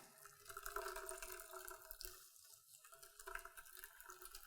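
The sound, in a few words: hazelnut hemp milk squeezed through a nut milk bag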